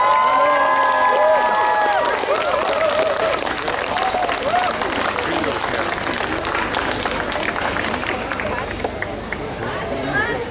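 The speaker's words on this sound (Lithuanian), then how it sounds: "Dar kartą garsus plojimai." A crowd at a public event in Palanga breaks into loud, sustained applause, with voices and cheers rising over the clapping at first before it settles into a steady dense patter.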